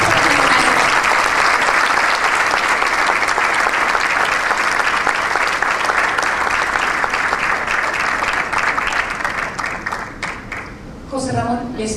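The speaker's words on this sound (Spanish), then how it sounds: "Fuertes aplausos para ella." Audience applause at an award ceremony honoring an insurance medical-expenses director, a loud, dense wash of clapping that holds steady for about ten seconds before thinning into a few scattered claps at the end.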